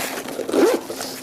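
A zipper on a small pouch at the back of a binocular chest harness is pulled in one quick, close rasping stroke, with no speech over it.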